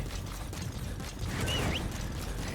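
A Fulton balloon hooks onto an enemy soldier in Metal Gear Solid V: The Phantom Pain, giving a quiet mechanical creak and ratcheting rattle with a brief rising whistle-like whine, all heard alone.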